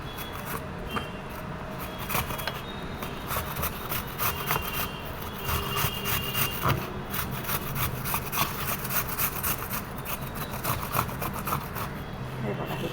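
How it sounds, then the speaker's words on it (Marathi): An apple rubbed steadily against a grater gives a continuous rasping scrape with quick repeated strokes, close and fairly loud throughout. "झालं किसून"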